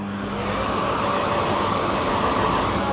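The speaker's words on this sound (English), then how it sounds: "if it's still wet, go through with the hairdryer" A hairdryer blows on a wet dog's coat, a steady, close, even whoosh of air that holds at constant loudness throughout with no breaks.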